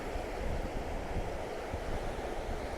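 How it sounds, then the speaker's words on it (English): Waves breaking at St Monans pier on the Fife coast make a steady, dense roar of surf mixed with wind noise, loud and continuous with no distinct individual crashes and no voices. "look at the power of the waves"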